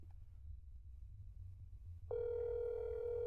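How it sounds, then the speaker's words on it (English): A steady telephone dial tone in a video game switches on partway through, sustained and clear over a low background rumble, with no talking. "just dial tone"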